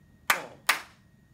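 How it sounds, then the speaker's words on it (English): Two sharp, close hand claps sound about four-tenths of a second apart, each crisp with a short decay, tapping out a quaver and crotchet rhythm in a quiet room. "I'm clapping the rhythm"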